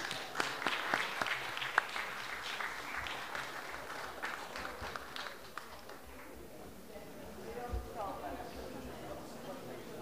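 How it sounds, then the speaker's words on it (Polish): Applause from a school year-end ceremony audience, a steady wash of clapping that is fairly faint and distant, with a few sharper claps early on and some talk mixed in toward the end. "Wielkie brawa."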